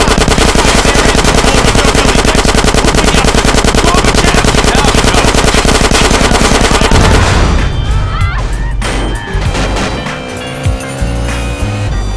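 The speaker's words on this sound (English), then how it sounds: "It's a submachine gun." Loud, dense automatic fire from a submachine gun in Grand Theft Auto San Andreas, a continuous rattling burst for about seven seconds, then trailing into engine and tire noise.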